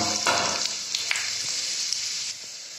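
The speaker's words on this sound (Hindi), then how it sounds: "ऑयल हमारा गर्म हो गया है, अब हम इसमें सबसे पहले डालेंगे थोड़ी सी हींग" Asafoetida and dry spices dropped into hot oil for pumpkin sabzi, giving a bright, close sizzle that flares up sharply and then settles into a steady frying hiss with faint stirring clicks.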